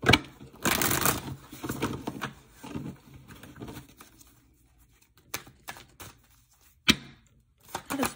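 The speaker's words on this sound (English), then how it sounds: "I'm going to do a quick shuffle in case those cards want to come out again" Riffling and rustling bursts of a tarot deck being shuffled, close by, a few quick runs at the start followed by softer scattered flicks and taps.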